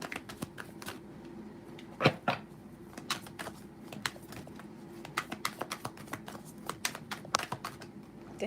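Soft, rapid riffling and tapping of a tarot card deck being shuffled, in uneven bursts with a few sharper snaps, close by and without voices.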